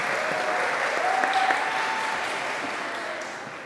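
Audience applause at a regional administrators' meeting in Niterói, a steady, dense clapping from a room full of people that carries through and slowly tapers off.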